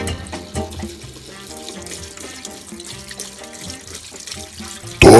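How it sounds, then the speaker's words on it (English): Hands washed under a running kitchen tap, a steady close splashing flow with small shifts as the hands move, ending in a sudden louder burst of water. "Washing these hands"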